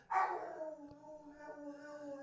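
A young female dog howls and barks from another room indoors, a loud rising yelp at the start trailing into a sustained wavering howl that carries on steadily to the end, with no talk over it.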